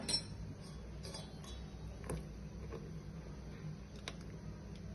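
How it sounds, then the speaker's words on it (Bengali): Pancake batter of milk, flour, baking powder, oil, salt and vanilla essence is stirred in a bowl, giving faint, scattered light clinks against the bowl over a quiet room. "এরপর ভালো করে নাড়াতে হবে।"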